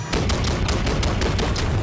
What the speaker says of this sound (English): charged shot unleashes a long burst of energy blasts